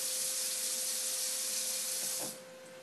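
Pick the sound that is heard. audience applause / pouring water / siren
pouring water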